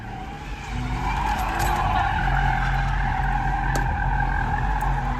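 An all-wheel drive car drifts with its tires skidding in a loud, sustained squeal layered over engine roar, steady and close for several seconds.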